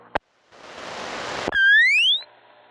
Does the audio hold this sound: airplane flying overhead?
no